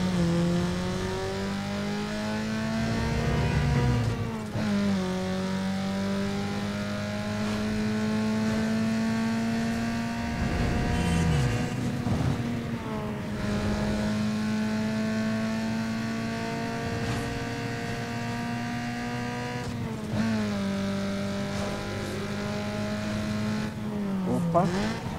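A car in the video game Need For Speed Underground 2 accelerates hard. A loud, continuous engine roar rises in pitch and drops at each gear shift, with some tire squeal and a voice talking underneath.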